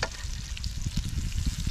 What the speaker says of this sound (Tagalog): Dito na natin para ma-prito na rin siya